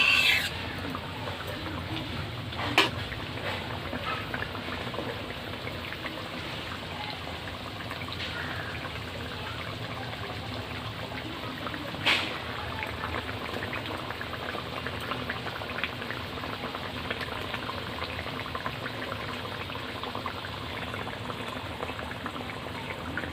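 Fish curry with bhola fish bubbles steadily in a pan, a continuous close simmering hiss and burble with occasional scrape of stirring, no voices.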